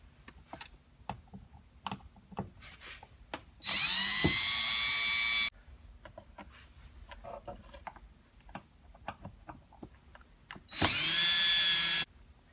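Two bursts of a power drill whirring as it unscrews door screws on a Toyota FJ Cruiser, each lasting over a second, separated by quieter clicks and handling noises of work on the door.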